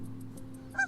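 A single snow goose honk rings out near the end as a brief, sharp, nasal call over a steady low hum, following a few soft faint chirps.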